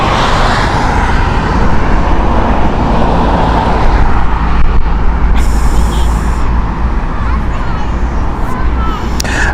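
Mediterranean Airways Airbus A330-200 from Beirut at Heathrow on a windy day, a loud, close, continuous engine rumble mixed with wind noise and a brief high whine partway through.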